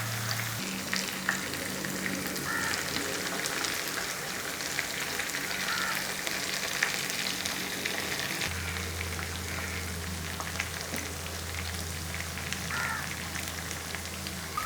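Prawns for a Kerala-style prawns 65 roast fry in a pan with a continuous dense crackle and sizzle, with a low steady hum underneath, and nobody speaks.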